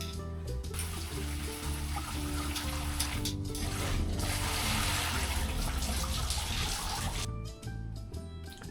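A newly installed shower head sprays a strong, steady stream of water, a loud continuous hiss and splatter close by that holds for most of the stretch before dropping off briefly near the end.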